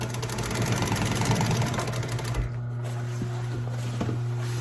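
An upholstery sewing machine stitching a cover, a rapid mechanical whir over a steady motor hum for about two and a half seconds, then dropping to the idling motor with a few light clicks.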